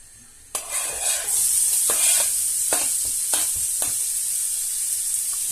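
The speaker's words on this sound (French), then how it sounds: "Donc on va mettre les oignons dedans." Chopped onions drop into very hot oil with a sudden loud sizzle that settles into a steady, bright hiss, broken by a few sharp scraping clicks of a utensil against the pan; no one speaks.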